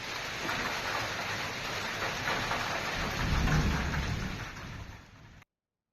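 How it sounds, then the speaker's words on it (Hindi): Hail and heavy rain pound down during a severe thunderstorm in Unnao, Uttar Pradesh, a dense, continuous roar that swells with deep rumbling midway, then eases and cuts off, with no one speaking. "आसमान से जब ओले गिरे"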